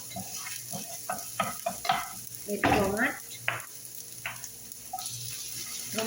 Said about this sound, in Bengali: এবার আমি পেঁয়াজটা একটু ভেজে নিলাম।